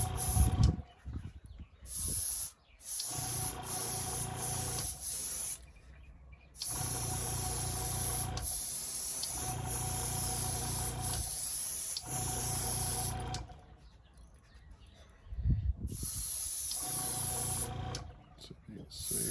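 Primer sprays onto a model car in long bursts of hissing spray with short gaps between coats, close and steady.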